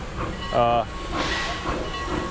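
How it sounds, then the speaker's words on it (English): A narrow gauge steam locomotive, the Eureka Palisades, passes nearby with a brief whistle-like tonal blast followed by steady hissing and rolling rail noise, with faint voices in the background. "This is the narrow gauge Eureka Palisades going by."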